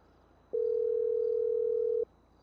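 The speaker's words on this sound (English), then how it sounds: "Or is this just the ringtone like when I'm called?" A phone tone sounds as a single steady electronic beep lasting about a second and a half, clear and alone against a quiet background.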